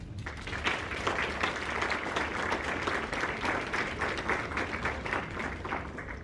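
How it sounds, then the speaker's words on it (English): An audience at a university graduation ring ceremony applauds, steady dense clapping from many hands sustained at even loudness throughout, with no voices over it. "Ring recipients, let's go ahead and give your supporters a round of applause."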